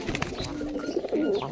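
A pair of yellow-eyed pigeons, a male and a female, coo nearby in short, low, rolling calls over a quiet room background, with no voices.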